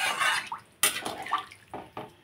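A lid set onto a cooking pot of thin curry broth: a sharp metallic clack, then several lighter knocks and clinks close by, over soft background noise.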